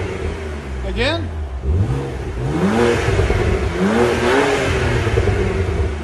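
A 2014 BMW Z4 with a 3.0L inline-six and stock exhaust revs up several times, each rise and fall sweeping loud and close, with a brief spoken word over it.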